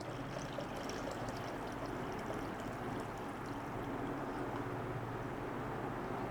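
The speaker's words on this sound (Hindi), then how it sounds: "1 लीटर मैंने पानी डाल दिया" One litre of water pours steadily into a cooking pot while kadhi pakora is being made, a continuous close rushing stream from start to finish, with no talking.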